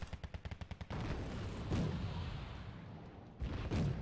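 In the war strategy game Wargame Red Dragon, a quick burst of about eight evenly spaced gunshots is followed by heavier booming fire and a rumbling tail, with another loud volley near the end.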